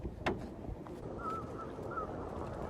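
Birds call on a thin peninsula between two stretches of water, a few short faint chirps and a harsher caw rising over soft wind and distant ambient noise.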